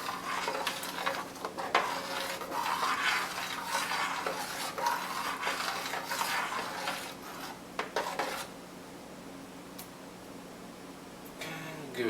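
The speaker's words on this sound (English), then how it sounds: "So let's give it a nice little stir." A spoon stirs a beer mash for a homebrew IPA, a steady wet swishing and scraping against the pot for several seconds, close and fairly loud, then fading to quiet with a few faint clinks.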